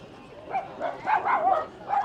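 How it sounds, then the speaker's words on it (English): Dogs barking outdoors at a seaside music festival, several overlapping barks in quick succession amid crowd noise, moderately distant and mid-level. "Oh, it's kicking off with the dogs."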